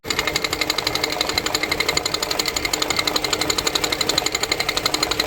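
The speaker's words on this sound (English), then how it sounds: "what that is the harmonic balancer has decided to let go on me" Engine idling with a failing harmonic balancer, fitted to a big-turbo Ford Courier, giving off a rapid, steady metallic clatter that repeats evenly and close by, with no talking.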